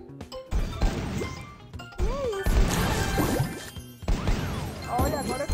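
A color bomb blasts through the pieces in a mobile puzzle game, setting off repeated smashing crashes and whooshing, bursting effects in quick bursts over several seconds.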